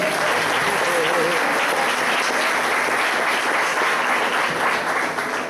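Loud, sustained applause from a young adults' church service congregation, dense clapping filling the whole stretch without a break, with a few voices mixed in.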